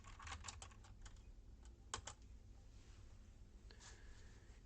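Quiet, close tapping of keys on a computer keyboard as a command is typed, with a short run of clicks, a pause, then a few more keystrokes, and no talking.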